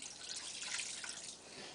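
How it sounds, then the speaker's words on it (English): Water poured into a pot of beef daube, a steady faint hissing splash lasting under two seconds, with no talk. "we're just going to add some water, because water's good"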